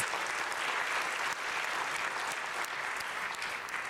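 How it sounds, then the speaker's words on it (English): Audience at a Calgary-Centre-North all-candidates forum in Wild Rose United Church applauds moderator Donna, a dense, even wash of clapping filling the room at moderate level without pause. "Throw you a round of applause."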